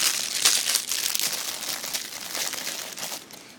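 Plastic wrapping from a squishy toy package crinkles and crackles continuously up close, busy and bright throughout.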